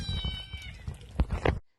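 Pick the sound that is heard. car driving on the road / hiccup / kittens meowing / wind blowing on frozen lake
kittens meowing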